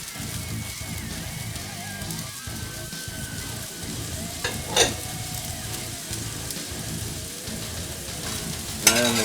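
Onions and mushrooms frying in a pan, a steady close sizzle with scraping stirs running throughout and a sharper clatter near the end.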